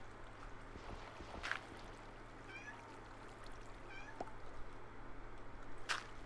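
A Minecraft cat gives a few sparse meows, one early, a softer one midway and another near the end, over a steady low ambient hum and faint trickling.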